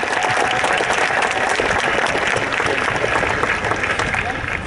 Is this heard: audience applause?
yes